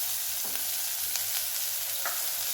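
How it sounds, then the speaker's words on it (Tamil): Okra fries in a pan with softened tomato and curry leaves, making a continuous close sizzle with a few quick stirring scrapes. "நம்ம கட் பண்ணி வச்சுருக்கிற வெண்டைக்காவை போட்டுடணும்"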